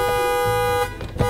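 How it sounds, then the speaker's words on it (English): A car horn blares in one long, steady, loud tone that breaks off briefly near the end before sounding again. "Why is it honking?"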